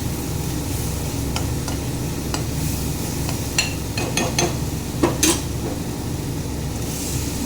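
Spices fry in a pan for a potato curry, giving a steady loud sizzle with a few sharp scraping and stirring clicks scattered through.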